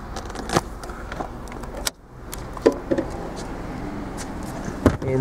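Back seat of a black 2004 Honda Odyssey Absolute being folded down, with close clicks, latch snaps and soft thuds over a steady cabin background hum.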